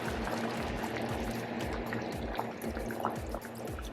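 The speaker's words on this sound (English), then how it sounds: "So now we're gonna add the vinegar, the sour orange vinegar." Sour orange vinegar pours into a pot of Dominican sancocho, a steady liquid trickle over a low rhythmic bubbling and kitchen hum, with no talking.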